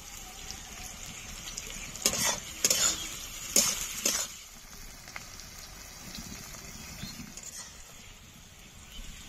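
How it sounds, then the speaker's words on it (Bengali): Chopped tomato frying in a pan for Bengali-style chicken curry: a soft continuous hiss, broken by a few bursts of clattering stirring with a utensil near the start, then a quieter steady fry. "ভালো করে ভেজে নেব।"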